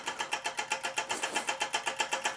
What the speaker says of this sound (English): That's the solenoid, unknown manufacturer solenoid engine running away quite nicely.